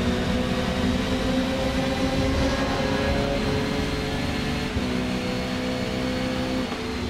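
Car engines drone steadily in a Forza Motorsport benchmark run on PC, a continuous loud tonal hum with slight pitch shifts, no voices over it.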